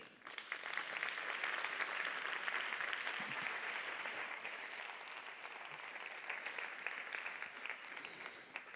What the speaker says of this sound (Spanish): Un aplauso para Angélica Sátiro